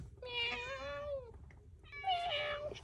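A cat meows twice outdoors, each call a drawn-out, clear cry close to the listener, with a short pause between them.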